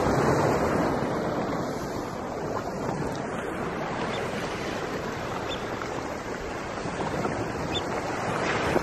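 An incoming tide washes in on the coast at sunrise, a dense, continuous roar of surging waves mixed with gusty wind buffeting the microphone.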